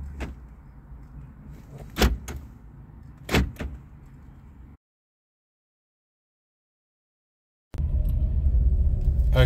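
A 1994 Renault Clio Mark I 1.4 RT five-door gives a couple of sharp door thumps over a low idle, then goes silent, then returns as a loud, steady engine rumble as it pulls away.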